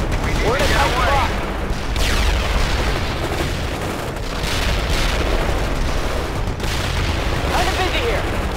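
Dense battlefield gunfire and explosions from the World in Conflict Soviet Assault campaign, continuous bursts and booms with radio voice callouts mixed in over the din.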